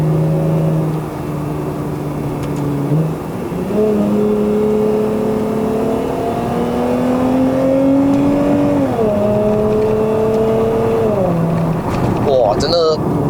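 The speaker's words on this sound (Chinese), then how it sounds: "我们不是要自己来点一下油门？" Throttle blips on a remapped 2.5-litre Lexus IS250 XE20: the engine steps up in pitch several times, dipping briefly between rises, then falls away near the end, loud and close from inside the cabin.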